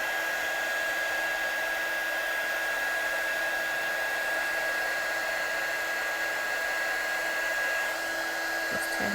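A heat gun heat-sets embossing powder for a stamped Christmas card, giving off a loud, steady blowing roar that runs unbroken throughout with no voices.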